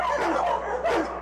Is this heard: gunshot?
no